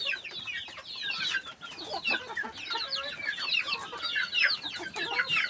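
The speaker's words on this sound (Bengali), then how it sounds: "মুরগির ঘাস খাওয়ার দৃশ্য" A flock of desi chickens clucks busily and continuously while eating grass, many overlapping soft calls close by with no talking.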